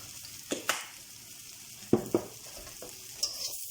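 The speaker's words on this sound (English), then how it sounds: "And I keep it a little bit stirred." Seasoned chicken strips frying in a pan for a keto recipe, a soft sizzle broken by a few scraping stirs and light clatter of the utensil at intervals, fairly quiet with no talking.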